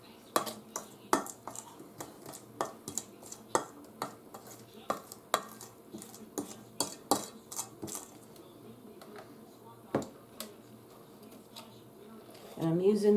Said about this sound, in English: I'm going to scrape the bowl because it says continue to scrape the bowl